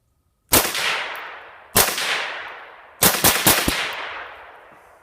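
A Ruger .22 Magnum (WMR) rifle fed from its factory 9-round rotary magazine fires outdoors: two spaced single shots, then a quick string of about five, each a loud sharp crack trailing into echo.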